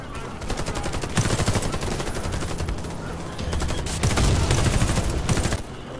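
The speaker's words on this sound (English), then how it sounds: "But why are you shooting and people dying from behind me?" Dense bursts of automatic and single gunfire from the video game Warface, rapid overlapping shots rattling nonstop for several seconds at steady loud level.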